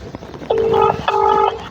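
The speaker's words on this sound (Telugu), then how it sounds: "ఈ శివగానికి అయినా ఫోన్ చేద్దాం" Two short electronic dialing tones sound one after the other, clear and close, after a brief murmur.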